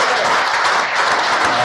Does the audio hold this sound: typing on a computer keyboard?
no